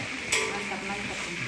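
Food fries and gets stirred in a pan, a close, steady sizzle with a brief scrape of stirring near the start.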